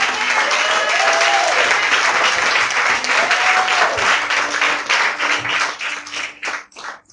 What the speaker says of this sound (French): On acclame encore très fort.